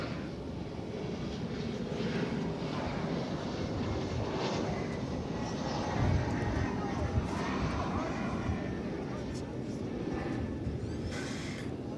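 An American Airlines passenger jet, flight 795, takes off from DFW Airport, its broad engine roar sustained and steady at a moderate distance, with light wind noise across the microphone.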